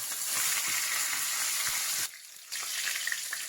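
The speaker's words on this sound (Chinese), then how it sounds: "下入鲫鱼煎的时候才不会脱皮" Crucian carp fries in very hot oil with shredded ginger in a wok, giving a close, steady sizzle that cuts out briefly partway through before resuming.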